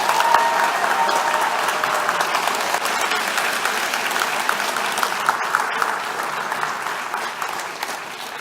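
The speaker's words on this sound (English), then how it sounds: "please give a round of applause to our Media Vision" Steady, dense applause from a large audience at a fall conference fills the space and holds at an even level for several seconds, with no voices rising above it.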